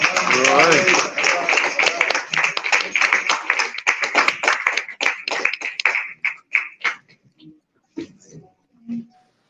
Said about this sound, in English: Another round of applause for Mr. Blackfoot Ali.